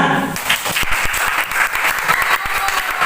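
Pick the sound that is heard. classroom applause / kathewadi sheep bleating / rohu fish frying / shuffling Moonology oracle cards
classroom applause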